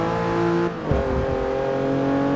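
A Porsche engine revving in the racing game Forza Motorsport 6, a steady loud buzzing drone that briefly dips, then settles back at a slightly lower steady pitch.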